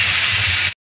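Water spinach hitting a hot pan, a loud burst of steamy hissing sizzle lasting under a second before cutting off abruptly.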